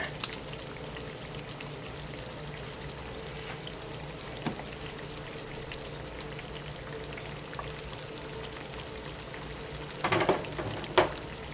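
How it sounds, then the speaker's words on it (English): Mackerel patties fry in a cast iron skillet with a soft, steady sizzle, and a few sharper clatters and spatters arrive near the end. "they don't fry at a crisp like this cast iron skillet does"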